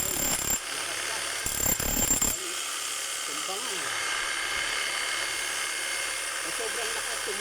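Power tool motor whirring steadily after a carbon brush replacement, broad continuous noise with a couple of short louder bursts early on, heard close up.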